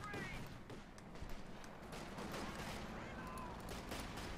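Sustained gunfire in the Company of Heroes 2 strategy game, with a continuous rattle of shots spread across the whole stretch, small-arms bursts blending with battlefield noise under commentary-level background.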